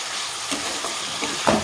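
Hot oil sizzling in a pan while a simple vegetarian dish cooks: a steady, hissing crackle fills the background, with a few soft stirring clinks and pops near the end, no voices.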